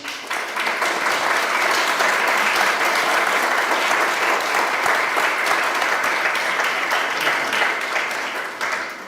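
An audience claps loudly and steadily for archaeologist Jaime Delgado Rubio at a memorial closing event in Teotihuacan, with dense, sustained applause lasting throughout and tapering slightly at the end.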